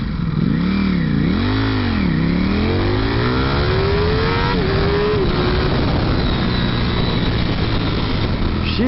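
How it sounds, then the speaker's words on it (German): A Ducati Panigale V4S accelerates from a standstill to 100 km/h at slightly less than full throttle, its engine revving up through several gears with rising whines and brief dips at each shift, loud and close over steady wind rush. "Einmal 0 auf 100, aber nicht ganz Vollgas."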